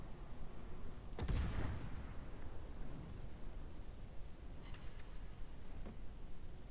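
Naval gunfire in the World of Warships game, a Nachi heavy cruiser firing and launching torpedoes: one loud booming salvo near the start, then a couple of fainter distant shots over a steady noisy background.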